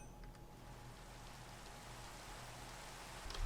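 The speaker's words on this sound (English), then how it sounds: "you can start the ritual of deluge, which will make it rain" Steady soft rainfall patters in a Minecraft world, summoned by the Bewitchment mod's ritual of deluge; a faint, even hiss with no voices.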